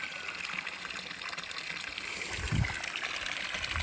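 Water flows from a garden hose used for watering plants, a steady splashing trickle with a brief louder gush near the end, heard close and alone.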